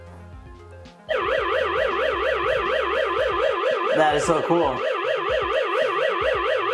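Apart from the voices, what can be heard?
Aqara smart home alarm triggered by window sensor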